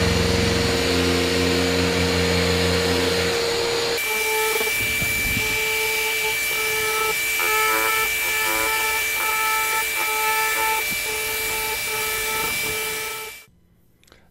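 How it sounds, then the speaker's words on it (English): A loud, steady Delta electric sander sanding a wooden garage door drones and whines continuously, then cuts off abruptly near the end, leaving quiet. "when you're sanding with this Delta sander"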